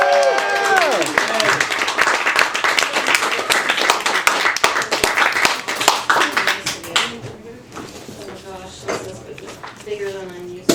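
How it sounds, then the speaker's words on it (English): An audience at a comedy open mic night bursts into loud, dense applause that runs for several seconds under a host's voice, then thins out as a performer starts talking. "Big round of applause."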